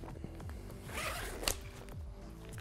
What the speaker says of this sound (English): I can zip just the vapor to the mainframe.